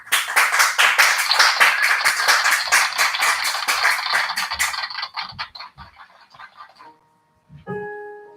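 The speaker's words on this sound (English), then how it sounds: "give a big round of applause" A small group of people claps in a quick, close-sounding burst for about five seconds, then it trails off into a few scattered claps, and a short tone follows.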